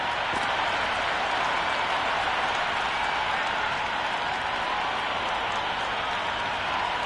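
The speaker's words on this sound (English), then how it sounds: "The crowd are making a heck of a lot of noise even before the first ball's been bowled" A large cricket stadium crowd roars steadily and loudly throughout, a dense wash of cheering and clapping with no break, at a Big Bash League match between Melbourne Stars and Perth Scorchers.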